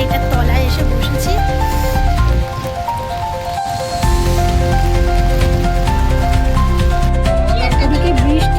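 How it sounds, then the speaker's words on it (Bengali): Rain falls at Puri, a dense steady patter that runs throughout, mixed with loud music-like tones and a broad wash of background sound. "আর দেখো এখন বৃষ্টিও পড়ছে।"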